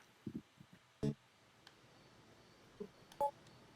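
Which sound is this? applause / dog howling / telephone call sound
telephone call sound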